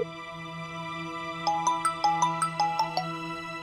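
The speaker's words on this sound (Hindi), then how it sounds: "पुलकित सर फोन क्यों नहीं उठा रहे?" A phone ringtone chimes in a quick, evenly spaced series of bright electronic tones over a steady hum.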